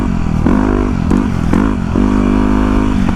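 Yamaha WR250R dirt bike revving in mud, close and loud, its engine surging in several quick throttle blips over a steady rumble.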